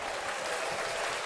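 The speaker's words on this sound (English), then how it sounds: "You want some applause?" A canned applause sound effect plays on a live sports talk show, a thick, uniform wash of crowd clapping at steady volume with no voices on top.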